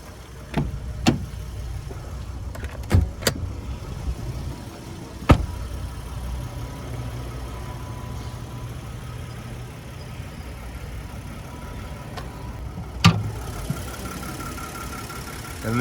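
2022 Nissan Frontier SV pickup with a 3.8-liter naturally aspirated V6, idling with the engine bay open: a low, steady engine hum throughout, punctuated by several sharp clicks and knocks, with no talking.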